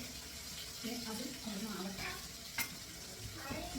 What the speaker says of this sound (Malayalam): തേങ്ങ ഒന്ന് വറുത്തെടുക്കണം